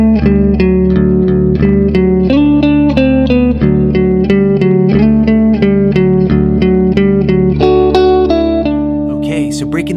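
Electric guitar in drop D tuning plays a riff, a catchy melodic line over a steady hypnotic drone note, loud and continuous with no talking.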